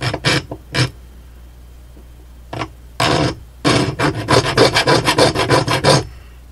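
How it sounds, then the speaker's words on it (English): A hand saw cuts a small slot into a little screw, giving short scraping rasp strokes: a few isolated strokes, then a steady run of quick back-and-forth sawing, close and loud with no talking. "Turn this into a bit of a self-tapping screw just by cutting a little slot in it with my saw."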